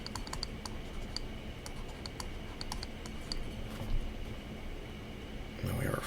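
Steady typing on a computer keyboard while entering a calculus limit formula: many light, rapid key clicks in uneven bursts, close and quiet over a faint background hiss, with a brief louder shuffle at the end.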